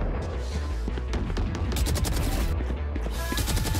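Dense automatic gunfire from a gun in the video game Valorant, rapid close shots running continuously with booming impacts under a busy game mix.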